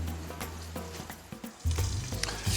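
A burger patty sizzles and fries in a hot pan, a steady close crackle with sharp taps and clatter as it is slid in and covered with a lid.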